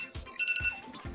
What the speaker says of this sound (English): that just set off an alarm